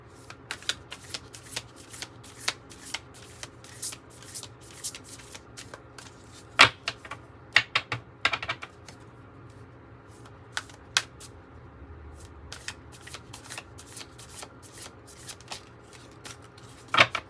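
Oracle cards being shuffled for a reading, a steady run of soft papery riffles with sharper snaps and taps scattered throughout, close and fairly quiet, with no talking.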